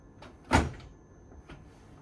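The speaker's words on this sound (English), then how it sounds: "you put the lid back and close the door" The door of a Necta Krea Touch coffee machine shuts with one firm, close thud, followed by a fainter knock a second later in a quiet room.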